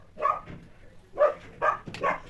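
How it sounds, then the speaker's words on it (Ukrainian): Dog barking indoors near a cold hallway, a few sharp barks in two bursts, fairly close and alone with no talk. "Джек, Джек, як завжди, гавкає."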